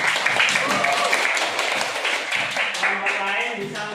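Classroom applause for a student group presenting their work, a steady wash of many hands clapping at once that holds even and fairly loud from start to finish, with voices chattering under the clapping.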